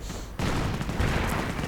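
Panzer IV tank gun firing away in a World War II strategy video game, a burst of loud, rapid gunfire-like blasts erupting after a brief quieter lead-in and continuing steadily.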